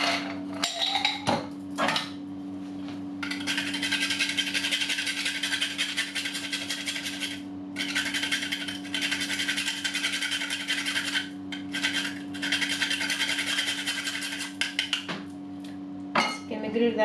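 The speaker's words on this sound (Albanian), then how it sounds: "Kemi grirë dhe ar muskatën" Nutmeg grated over a pot of spinach béchamel sauce, bursts of dry scraping in repeated runs with short pauses, a steady kitchen hum underneath and a few metal clinks at the start and end.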